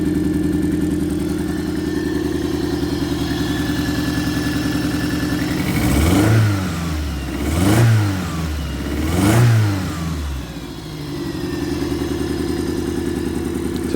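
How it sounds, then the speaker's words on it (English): A 1985 Toyota MR2 AW11 idles with a low steady drone, then revs three times in quick succession through a ragged, worn exhaust, each blip rising and falling before settling back to idle, close and loud. "My raggedy exhaust."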